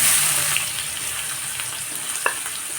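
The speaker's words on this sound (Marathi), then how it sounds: "तर कांदा परतून घेऊया आपण" Chopped onion sizzling steadily in a hot oiled pan with mustard seeds, cumin and asafoetida, a close, continuous frying hiss with a few small pops and a brief stir, no talking.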